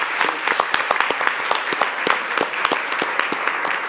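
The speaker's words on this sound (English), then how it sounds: "A round of applause." Conference audience applause: sharp individual claps ring out in a brisk, uneven patter, moderately loud and close, from a smaller group filling the whole moment.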